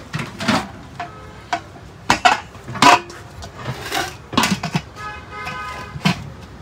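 Used thick aluminium rice cooker pot and lid from an old ship's kitchen being handled, with sharp metallic clanks and knocks in uneven bursts, close and loud.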